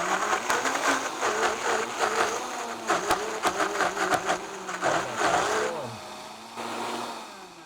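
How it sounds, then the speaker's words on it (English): A blender whirs steadily at close range, puréeing a chipotle sweet potato white bean dip until smooth; the motor drones with a pulsing, churning texture for several seconds, then drops to a lower, smoother tone near the end. "so we're just gonna blend this up until it's completely smooth"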